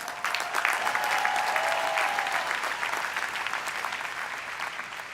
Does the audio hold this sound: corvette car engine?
no